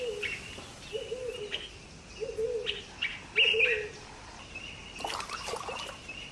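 Many birds calling across a Mara River wetland, with repeated low hoot-like calls in short bursts and higher chirps and tweets scattered over steady background sound, moderately faint and heard without talk.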